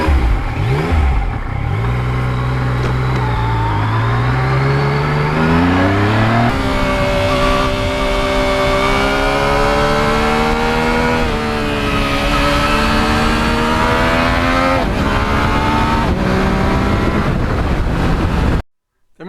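A Yamaha MT-09 naked motorcycle rides the open road, its engine note loud and continuous with rising and falling pitch through gear changes and throttle swells, steady wind roar underneath for about eighteen seconds before cutting off.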